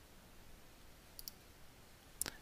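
A computer mouse gives two quiet clicks, then a sharper double click near the end, faint over a low room hiss.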